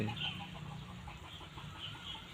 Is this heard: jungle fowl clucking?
yes